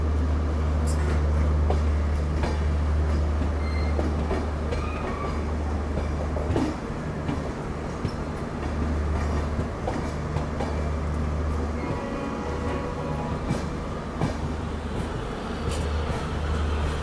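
A diesel-hauled passenger train pulls into Hubli railway station, its steady, loud rumble of wheels and engine filling the whole stretch with occasional clanks and squeals and no speech.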